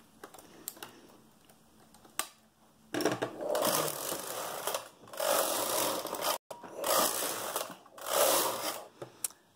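A knitting machine carriage is pushed back and forth across rows of a sock toe, giving loud rattling clatter in three long passes after a few quiet clicks, close up and without talking.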